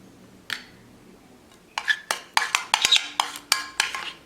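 A spoon stirs a slime mixture in a bowl, giving a run of sharp clinks and scrapes against the bowl that start sparse and then come quickly in an uneven rhythm, close and distinct with no talking.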